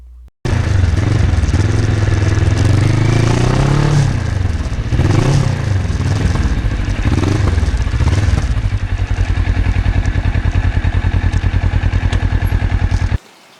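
A restored black and gold Kawasaki Ninja motorcycle rides past close and loud, its engine rising and falling through gear changes before settling into a steady, rapid throbbing idle that cuts off abruptly.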